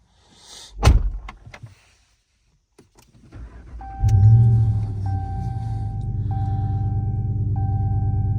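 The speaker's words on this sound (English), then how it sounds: "Hold on, close the door so it can go off." A truck door slams shut with one loud, close thud. After a pause, the engine starts, and a low, steady rumble with a faint electronic tone carries on to the end.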